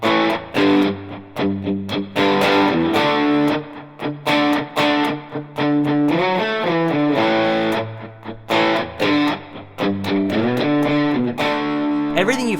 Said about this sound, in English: playing some chords would sound really thick like this.